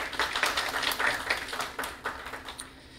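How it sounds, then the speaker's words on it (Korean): An audience at a defence forum claps politely, a brief burst of mixed hand claps that thins out and fades within a few seconds. "박수 부탁드립니다"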